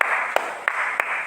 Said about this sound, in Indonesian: Kakak tepuk tangan dulu sendiri.